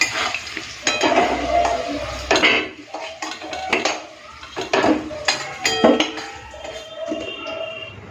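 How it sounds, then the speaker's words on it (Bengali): Chandramukhi potatoes fried deep red in a pan give a low sizzle, broken by repeated clinks and scrapes of a metal spoon stirring and lifting them out, with no talking. "এদিকে দেখুন আলুগুলো পুরো লাল করে ভেজে নিয়েছি তুলে নেব আলু ভাজাটা মোটামুটি হয়ে গেছে"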